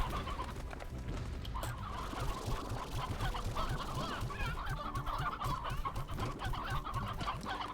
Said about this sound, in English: Welcome to your new home, chicken.